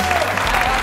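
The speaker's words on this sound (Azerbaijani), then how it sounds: "alqışlar" Game-show audience applause, a brief, loud burst of dense clapping heard up close.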